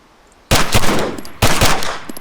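Two short automatic bursts from a KRISS Vector submachine gun in the ArmA 3 video game, loud and close, each burst a rapid string of sharp shots with a brief gap between them.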